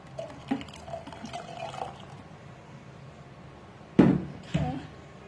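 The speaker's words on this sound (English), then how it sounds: "just stir, and then you add in your water." Warm water is poured into a stirred homemade herbal mixture, with light trickles early on and then a sharp splashing pour followed by a second shorter gush, close and fairly quiet.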